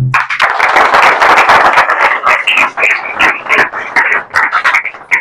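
A church congregation claps loudly in praise, with fast, dense handclaps in a driving rhythm that carries on steadily from start to finish.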